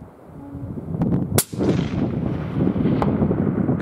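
A Defensive Edge 260 Terminator rifle fired at long range outdoors, one sharp, loud crack followed by wind noise on the microphone, with a couple of fainter distant impacts or echoes.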